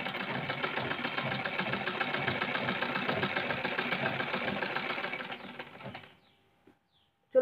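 A domestic sewing machine runs steadily for several seconds, a close rhythmic whirring clatter that slows and stops, followed by near silence and a short knock at the end.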